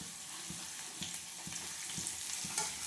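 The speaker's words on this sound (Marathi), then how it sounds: "सुरुवातीला ठेचा टाकलेला आहे गॅस हा पॉवरवरच ठेवायचा" Thecha, a crushed chili paste, frying on high flame: a steady hiss of sizzling with rhythmic stirring scrapes roughly every half second, close and fairly quiet, with no talking.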